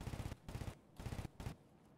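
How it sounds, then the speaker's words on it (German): Rapid bursts of automatic gunfire in Escape from Tarkov, four quick volleys of several shots each, somewhat distant and muffled, with no talk over them. "Okay, die Schüsse kommen näher."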